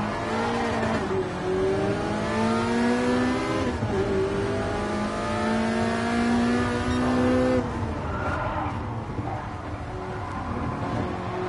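A high-revving Ferrari sports car engine in the video game Gran Turismo Sport howls through rising gear pulls, each climb broken by quick shifts, loud and close with no talk.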